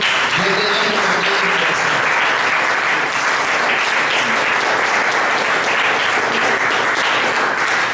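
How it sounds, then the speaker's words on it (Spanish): Loud, sustained applause from a church congregation for the Lord, a thick unbroken roar of clapping lasting the whole stretch with faint voices mixed in. "¿por qué no le das un fuerte aplauso a este Señor?"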